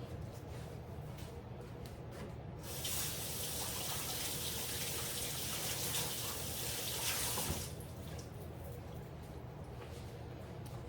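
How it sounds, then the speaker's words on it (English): Tap water gushes into a kitchen sink while jalapeno peppers are washed, a steady rushing stream lasting about five seconds between quieter room sounds. "I'm gonna wash my peppers."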